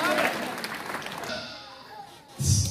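A church congregation claps during a French-language sermon, with a voice speaking over the applause. The clapping fades after about a second, and a short burst of noise closes the clip.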